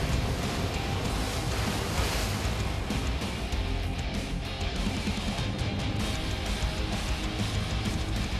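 Rough, surging waves pound around a giant squid fishing boat running across open ocean, a steady loud wash of water and wind roar with no letup.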